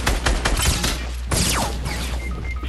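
Gunfire in a Fortnite match, with a sniper rifle shot among it: a dense run of sharp, loud reports and cracks over a steady game background, with a second burst of shots partway through.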